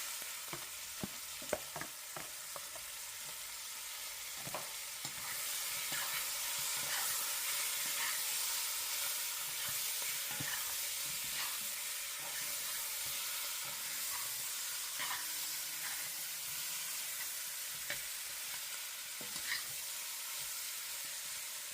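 Curry sizzles in a pot as it is stirred, a sustained crackling fry near the mic broken by scattered clinks and scrapes of a spoon, with no voices.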